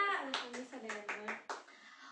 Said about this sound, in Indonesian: Tepuk tangan untuk Bu Gia.